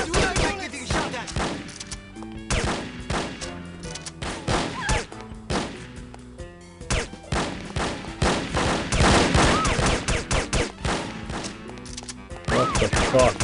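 Gunfire in the shooter game No One Lives Forever, with repeated loud shots, thuds and impacts coming in irregular bursts throughout, dense and close, with a few brief bits of speech among them.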